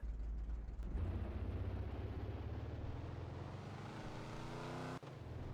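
Car engine starts up and pulls away, a steady low motor hum building and rising in pitch as it accelerates through town, loud and close, with a brief break near the end.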